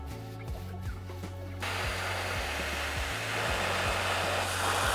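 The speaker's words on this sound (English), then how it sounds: "So I've used the hoover to try and suck out some of some of the dirt and dry the steering wheel up" Hoover running steadily while sucking dirt from an Alcantara-covered car steering wheel, a continuous airy roar with a low motor drone that rises slightly in intensity partway through, close to the microphone.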